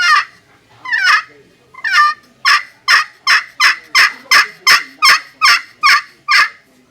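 A turkey pot call sounds out a run of loud, sharp clucks, a few spaced ones first, then a quick, even series, imitating a turkey.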